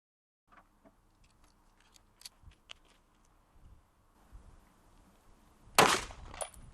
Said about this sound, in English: I'll load the P365 up again and shoot the gel a third time